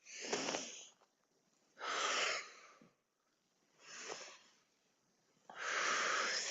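Four breathy, airy breaths alternate inhale and exhale in a slow, steady rhythm during a mobility exercise, close and clear with quiet gaps between them.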